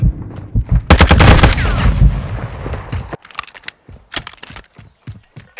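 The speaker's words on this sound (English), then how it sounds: "Taking effective fire." Gunfire in Call of Duty: Modern Warfare II, a loud sustained burst of automatic fire and booming shots in the opening seconds, followed by scattered sharp single reports and clicks.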